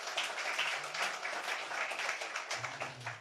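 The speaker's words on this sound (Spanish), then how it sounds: "Démosle entonces un buen aplauso" A church congregation applauds after a sermon, a dense, steady burst of clapping lasting a few seconds with faint voices underneath.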